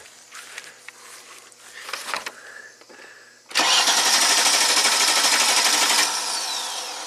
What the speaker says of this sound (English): crank no start